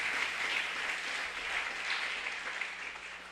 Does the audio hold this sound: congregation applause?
yes